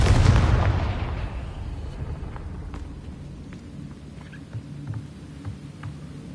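A Confringo spell explosion in Hogwarts Legacy bursts loudly at the start, then fades into a long rumbling tail scattered with faint crackles and small impacts.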